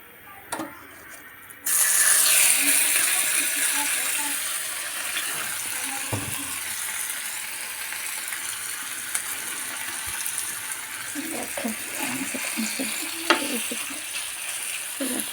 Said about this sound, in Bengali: এখন আমি এটাকে পোড়া করবো, ভাজি করবো।